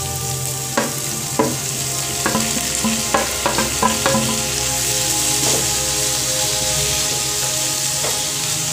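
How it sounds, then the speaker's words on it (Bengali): Grated carrot, capsicum and cabbage fry with onions in a pan, a steady close sizzle broken by repeated sharp scrapes and knocks of a spoon stirring the vegetables. "এবার গ্রেট করে রাখা গাজর, ক্যাপসিকাম আর বাঁধাকপি দিয়ে দেব।"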